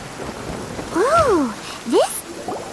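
Steady rain falls in the video game Genshin Impact, a soft continuous hiss beneath a character's brief spoken line and a couple of short tonal game effects.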